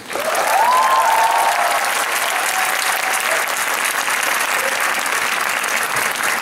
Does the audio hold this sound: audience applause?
yes